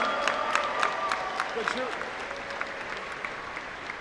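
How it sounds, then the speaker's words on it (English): Crowd applause rises for the national champion at an indoor archery championship shoot-off, a steady wash of clapping running the full length with a voice speaking over it. "Give him a huge round of applause."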